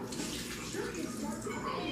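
Water is poured steadily into glue to make homemade slime, a continuous splashing gush that lasts throughout at moderate loudness, with a voice talking faintly underneath.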